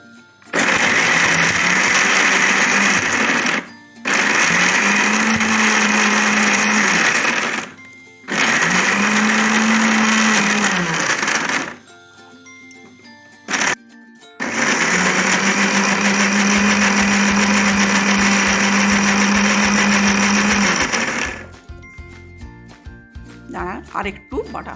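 A mixer grinder blends spice paste of melon seeds or cashews for a dhaba-style paneer dish, running loud and close in four long whirring bursts with short pauses between them.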